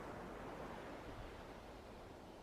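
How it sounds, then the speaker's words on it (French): Gentle waves wash over sand in a steady, soft, unbroken hiss that stays even and fairly faint throughout, with no voices. "Le doux bruit des vagues sur le sable t'invite à la détente"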